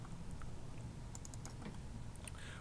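Computer keyboard keys pressed for an Excel shortcut, faint scattered clicks and light taps over a steady background hiss.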